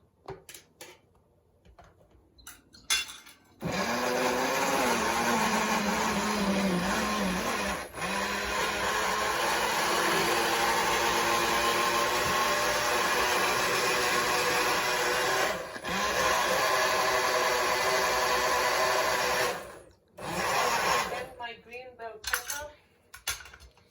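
While Jamaican food is being cooked, a kitchen blender whirs loudly and continuously for roughly sixteen seconds with brief dips in its drone, framed by scattered clatters and clinks before and after.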